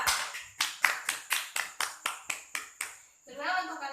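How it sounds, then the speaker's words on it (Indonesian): A class claps in a rhythmic, unison beat of about eleven sharp, evenly spaced claps for a student in a classroom, followed by a brief burst of talk. "Tepuk tangan untuk Anissa."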